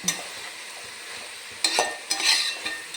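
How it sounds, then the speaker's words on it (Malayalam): Masala for chicken curry is stirred and fried in a pan over low heat, with a soft steady sizzle and a few scraping stirs of a spoon, close and alone. "ഇങ്ങനെ ചൂടായി ഇളക്കി കുറച്ച് മൂത്ത് വരുന്നതേ ഉള്ളൂ"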